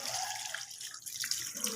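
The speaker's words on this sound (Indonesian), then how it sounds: "basahi kedua tangan menggunakan air bersih yang mengalir" Clean running tap water streams steadily as two hands are wet under it during a handwashing routine, a soft, continuous splashing close by with no talking.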